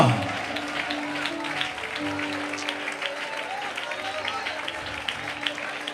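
A church congregation at a Malayalam Christian service applauds together, a steady wash of many hands clapping that carries on for several seconds under a sustained low hum.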